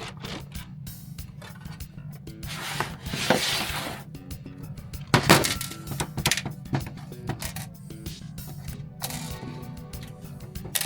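Screws being backed out with a Phillips screwdriver to free a dust cover, heard as close, irregular scraping, rubbing and small knocks over a steady low hum, with a sharper clatter about midway and no talking.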